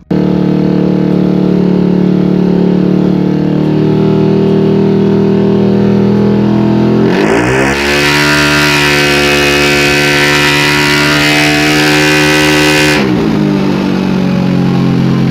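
A Yamaha Aerox scooter with an MDM Kondoman aftermarket exhaust idles steadily, then revs up sharply and holds a higher pitch before dropping back, close and continuous.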